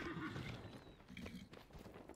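A horse in the video game Dragon Age: Inquisition neighs and its hooves clop, faint and brief, with game sounds around it.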